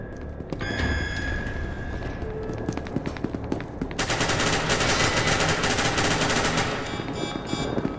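Video game gunfire comes as rapid automatic bursts of shots, sharp and close. It grows into a dense, continuous barrage in the second half, over a busy game soundscape.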